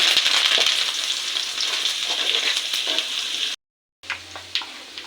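Curry leaves and onions dropped into hot oil for cauliflower pachadi, a loud close crackling sizzle with stirring scrapes, a brief silent gap, then the frying resumes with a few sharp pops.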